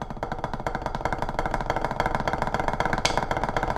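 Drumsticks tap quick, repeated strokes on a practice pad to compare its sound with and without a laminate surface. The rapid, evenly spaced hits are close and moderately loud, with no voices.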